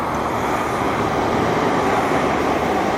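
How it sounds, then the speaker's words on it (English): A new train passing through Whitton Station on the Richmond to Waterloo line, a steady, loud rolling rumble of wheels and motors that holds evenly throughout, with no voices. "Oh, that's the new train."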